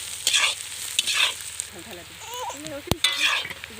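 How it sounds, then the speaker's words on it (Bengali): Black peppercorns and cloves frying in a pan for a village-style chicken kosha: bursts of hissing sizzle as they are stirred, with a person talking briefly in the middle and a sharp click near the end. "এখানে অ্যাড করব এই যে গোলমরিচ। এটা এখন 2 মিনিট ভেজে নিব।"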